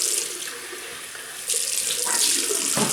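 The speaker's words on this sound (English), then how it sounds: "Right, we'll rinse off." Tap water runs into a sink for rinsing after a shave, a steady close splashing stream that shifts in tone as hands move through it.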